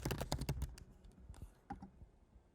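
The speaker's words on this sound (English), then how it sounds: "I'm typing quick" Rapid typing on a computer keyboard, a fast burst of close, crisp key clicks that thins into scattered taps and then quiet room tone.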